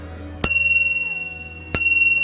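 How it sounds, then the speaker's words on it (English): An electric bike's plucked thumb bell rings twice, each a sharp bright ding that slowly decays, close and loud against a faint background hum. "This is a pluck bell. You pluck it."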